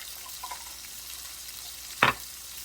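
Chicken pieces fry in a pan with a soft, steady sizzle. A brief clatter of stirring comes early, and one sharp, louder scrape or splash follows near the end.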